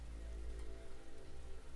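Rain falls steadily in the video game DayZ Standalone, a soft, even patter over a low rumble, quiet and unbroken with no voices.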